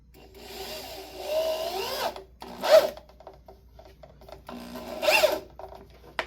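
A power drill drives screws into a slanted wooden studio bench section, whirring in several rising bursts separated by short pauses, close and moderately loud, with no talking.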